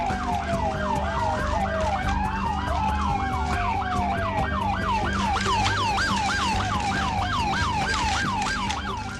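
A wailing ambulance siren sounds in news footage of vehicles arriving at a house, its rising and falling sweeps repeating steadily and loud for the whole stretch over a constant bed of street noise.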